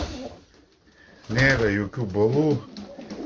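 Pigeons coo in a loft, low soft calls sitting beneath someone talking close by, with the birds heard mostly in the gaps of his speech.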